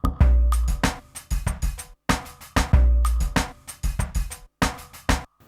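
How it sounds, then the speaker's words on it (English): A breakbeat pattern from a Korg Volca Sample: punchy kick, snare and hi-hat hits in a looping syncopated rhythm, full-range and bright, repeating twice with no talk. "And then I can add a breakbeat."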